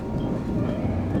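A twelve-car JNR 415 series electric train, including stainless 1500-series cars, running on the Kagoshima Main Line, a loud, steady rumble of wheels and car body with no distinct clacks.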